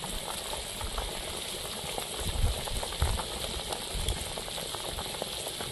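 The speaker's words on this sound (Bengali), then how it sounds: "তরকারি ফুটে উঠেছে" Curry bubbling at a steady boil in a cooking pot as a village-style silver carp fish curry with mete alu fruit simmers, a continuous close hiss and bubbling with a few louder pops, no voices.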